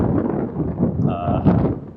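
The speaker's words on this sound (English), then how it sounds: "Sorry if it's a little windy, chat. This causeway is more breezy than I anticipated." Wind buffets the microphone on a breezy causeway, a continuous low rumbling gust with a brief tonal whistle near the end.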